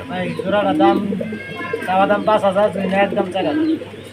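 Fancy Mundian pigeons coo in low, rolling, throaty notes, close and steady, mixed with someone talking over them.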